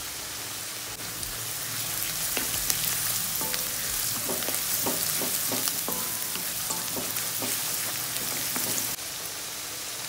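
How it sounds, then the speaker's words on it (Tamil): Finely chopped garlic dropped into a pan of partly cooked onions, sizzling and frying steadily in hot oil with a dense crackle, while a utensil stirs and scrapes through the mixture in short repeated strokes. "இப்போ நம்ம பொடி பொடியாக நறுக்கி வச்சுருக்க பூண்டு ஆட் பண்ணிக்கலாம்."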